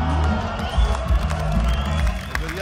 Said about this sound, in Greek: Χειροκροτάνε και από κάτι.